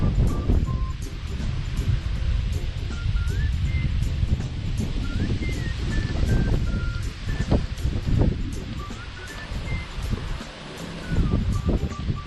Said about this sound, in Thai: มาแล้วครับลมฝน